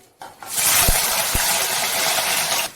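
Washed, chopped potatoes go into hot oil in a home kitchen, setting off a sudden loud, steady sizzle that holds for a couple of seconds before fading, with a couple of soft knocks near the start.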